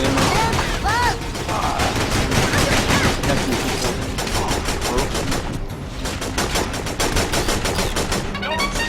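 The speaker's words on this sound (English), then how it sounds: "Taking enemy fire! Looks like we got ourselves a firefight!" A Battalion Wars firefight on a tundra battlefield rattles with dense, loud gunfire, rapid bursts and overlapping shots filling the whole stretch, with a voice briefly heard amid the shooting.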